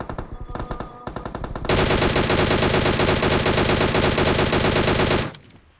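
Automatic gunfire in the mobile battle royale game PUBG Mobile: a few short bursts, then a long, loud, continuous rattle of rapid shots lasting several seconds before cutting off abruptly.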